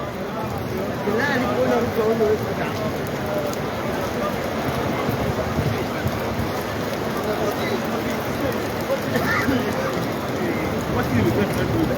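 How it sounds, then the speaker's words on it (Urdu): Heavy rain pours down at the Prophet's Mosque in Medina after Friday prayer, a dense, steady hiss of rain on hard surfaces that stays loud and unbroken throughout. "بہت تیز بارش"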